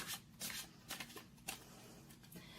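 Tarot cards shuffled by hand in a steady run of riffling, soft slapping bursts with short pauses between them, close and moderately loud, with no talk.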